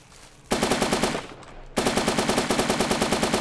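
An automatic rifle fires two rapid, evenly spaced bursts with a short gap between them in a solo-developed Thai video game, with close, loud shots and heavy recoil.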